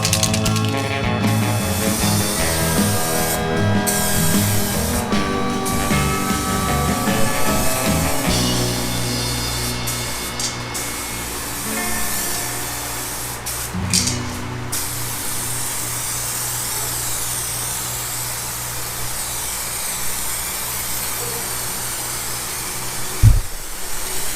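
Spray gun laying 2K clear coat on a motorcycle fuel tank during a budget restoration, a loud continuous hiss of atomized spray running almost without a break, with a few short pauses and a brief clunk at the end.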